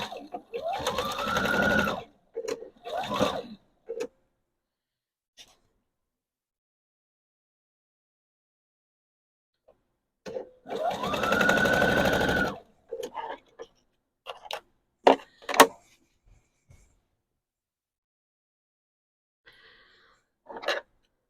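A sewing machine back-stitches a Christmas pillow case in two loud, close bursts of about two seconds each, separated by quiet handling clicks and rustles of the fabric.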